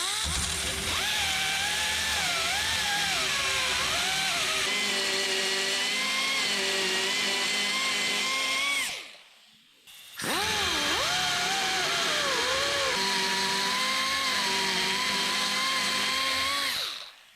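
A small rotary bit grinds out a hole in a 1967 Chevelle door to clear a power-window motor gear, a steady close whining drone that runs about nine seconds, stops briefly, then resumes.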